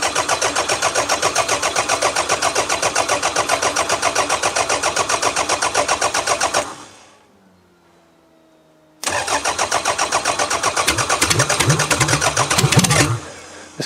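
A hard-starting car with a smoking problem cranks with a rapid, rhythmic starter whir, pauses briefly, then cranks again until the engine catches and fires up at the end.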